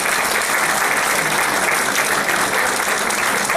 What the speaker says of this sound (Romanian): Și-o aplaudăm, vă rog.